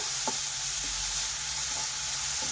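Chopped onion fries in oil in a pan, a constant bright sizzle close up with a few faint stirring clicks, and no voices over it.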